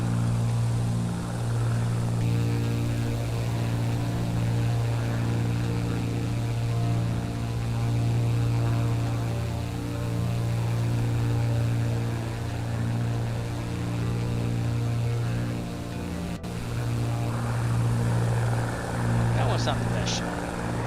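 Propeller aircraft engine in a flight simulator game over Mexico's Baja coast, a loud steady droning hum with a constant tone throughout, a person talking over it near the end.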